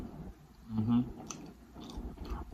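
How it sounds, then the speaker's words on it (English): Someone eats a smashed burger with salty American cheese on a Jamaican fried dumpling bun during a mukbang, with close, wet chewing and biting sounds building to a louder bite in the middle, then softer mouth noises. "It's all that chewing."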